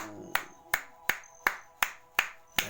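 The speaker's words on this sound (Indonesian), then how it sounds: "Tepuk tangan buat Jenderal Dudung." Seven crisp, evenly spaced hand claps ring out in a steady rhythm as applause for General Dudung. Each clap is close and loud, followed by a short echo tail.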